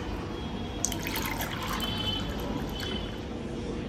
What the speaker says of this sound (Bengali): এখন মা আমাকে একটু শরবতটা বেড়ে দিচ্ছে